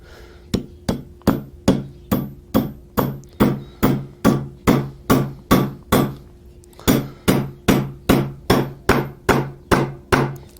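A hammer taps a part into an FTF Samurai saw: about twenty evenly spaced, sharp close-up knocks, with one short pause partway through and no voices.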